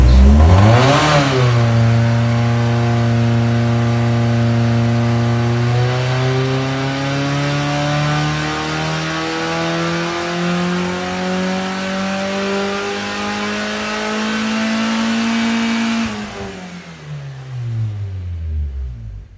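A stock Mazda Miata (MX-5) engine without a restrictor plate revs on a dyno, its pitch climbing smoothly and steadily through a long pull before dropping off sharply near the end, loud and close.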